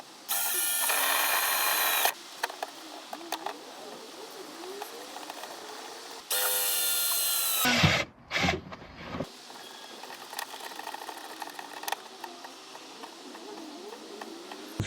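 Power drill boring a hole in a Crown Victoria police car while fitting emergency lighting: two loud, steady bursts of a couple of seconds each, followed by a clattering handling noise and quieter shop sounds.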